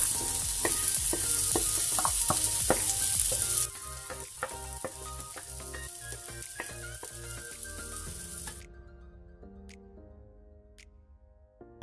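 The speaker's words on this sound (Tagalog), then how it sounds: "gigisahin lang natin itong sibuyas for 1 minute" Onion, carrots and corn sautéing in a pan: a steady close sizzle with ticking stirs and scrapes of the utensil, the frying growing quieter in steps and dying away to occasional clicks near the end.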